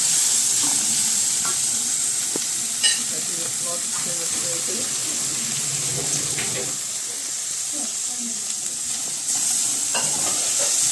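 Two chopped bell peppers sizzle in a pan with softened onion, giving a steady, bright frying hiss throughout, with occasional soft stirring scrapes and clicks.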